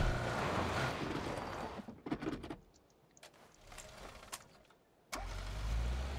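Car driving in a squad-based video game, a muffled engine and road rumble that cuts out into quieter rattling and clicking ambience before the engine drone returns abruptly near the end, faint and without speech.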